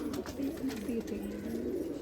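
Pigeons kept on a rooftop in Amritsar coo in soft repeated low calls, steady and close, over a faint background murmur.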